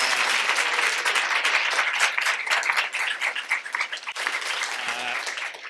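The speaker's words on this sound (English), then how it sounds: "if we can give our panel a round of applause" Audience at a state and local policy panel session applauds the panel, a steady dense wash of clapping that holds for several seconds and thins slightly toward the end, with a brief voice near the end.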